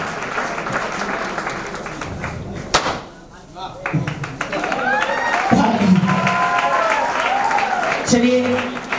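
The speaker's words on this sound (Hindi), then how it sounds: "चलिए जोरदार ताली।" An audience at a promotion ceremony in Begusarai claps loudly, with voices talking and calling over it and a few thumps and bumps breaking through the applause.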